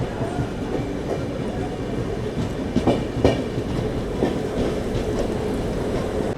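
Ajmer Sealdah Express passenger train standing at Prayagraj station, a steady loud rumble of rail cars with rhythmic clickety-clack and occasional metallic clanks throughout.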